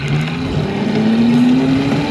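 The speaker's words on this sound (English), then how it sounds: "Still riding that mini motorcycle." A mini dirt bike motorcycle engine drones steadily while riding, its buzzing pitch slowly rising as it revs, loud and close with wind and road noise.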